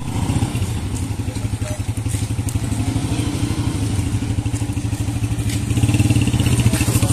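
A motorcycle engine runs close by near Qila Rohtas in Jhelum, Punjab, with a steady rapid putter and clatter that rises to louder revving toward the end as the bike pulls away.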